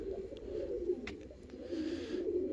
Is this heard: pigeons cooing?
yes